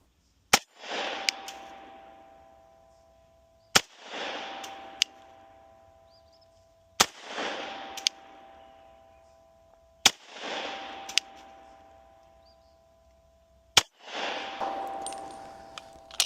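Five loud, evenly spaced pistol shots from a .357 SIG firing 125 gr Speer Gold Dot rounds at a range, each a sharp crack with a ringing decay and a faint metallic ping, about three seconds apart.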